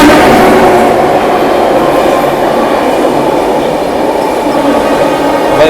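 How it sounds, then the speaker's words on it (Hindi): Rewanchal Express passenger train approaching on Indian rails, a loud, close, steady rumble of wheels and carriages with faint rhythmic clatter and a slight metallic squeal. "सामने ये आ रही है अपनी रीवांचल एक्सप्रेस"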